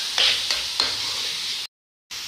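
Canned corn, about 250 grams, sautés with spices in a pan over a medium flame, giving a steady sizzle. A few scraping stirs sound before a brief gap of silence.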